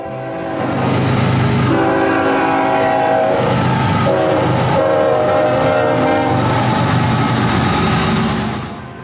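A GE Evolution series (GEVO) diesel locomotive rumbles past loudly with a steady heavy engine drone, blaring horn tones and rolling wheel clatter, no voices.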